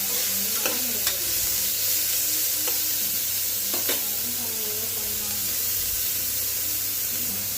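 Ginger garlic paste sautéing in a pan for egg biryani gives a steady, close sizzle and hiss, with a handful of scraping stirs spaced through it and no talking.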